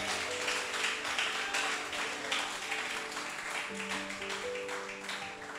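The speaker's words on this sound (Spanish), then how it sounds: "Dele un aplauso al Rey" A church congregation applauds steadily at an evangelistic service, dense broadband clapping filling the room for several seconds, with sustained tonal music held underneath and no speech over it.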